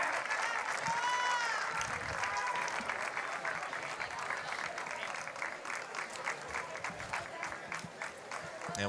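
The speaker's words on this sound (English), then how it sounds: "So a round of applause for Santos from the fans from Puerto Rico that have made the trip." Applause from Puerto Rico fans in the crowd at a Pony League World Series youth baseball game rises to a steady clatter of clapping heard from a distance, with a faint voice over it.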